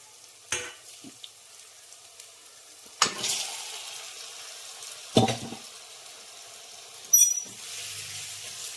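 Country chicken frying with softened tomatoes in a pan for a village-style curry, a low steady sizzle broken by four separate scraping stirs spaced a couple of seconds apart.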